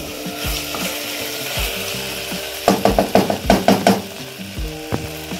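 Chicken rajma curry with a pinch of sugar being sautéed in a pan, giving a steady sizzle under rhythmic wooden spatula scrapes that turn loud and regular midway through.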